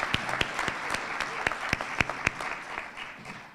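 A ceremony audience at a medical school white coat ceremony applauds, steady crowd clapping with several sharp, close individual claps standing out, easing off toward the end.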